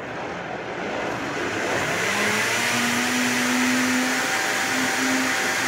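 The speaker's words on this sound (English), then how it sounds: "it's all blended up and put it in" Countertop blender mixing crepe batter: loud, continuous motor whir that builds slightly and holds steady, close up with no talking.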